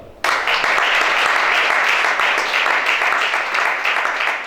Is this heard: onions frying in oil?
no